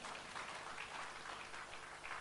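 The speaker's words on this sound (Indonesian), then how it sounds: "Mari berikan tepuk tangan." Steady applause from a church congregation at a Sunday service, a continuous dense patter of many hands clapping at a distance with no voices.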